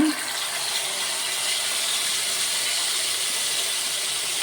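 Fish pieces frying in oil in a clay pot, giving a steady, close, loud hiss that holds evenly throughout with no talking.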